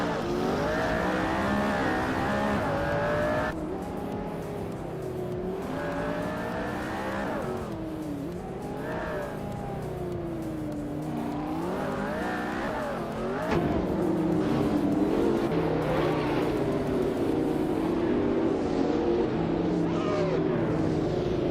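Race cars roar off the line at the start of a race at Denver's Pepsi Center, a 2019 Zenbo TS on pole; dense, continuous engine revving and shifting pitches fill the whole stretch, loud and close, with a brief surge near the end.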